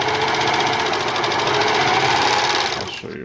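A sewing machine stitches a Y-back racer tank top in a fast, steady mechanical whir with rapid rhythmic needle clatter, close and loud, winding down at the very end.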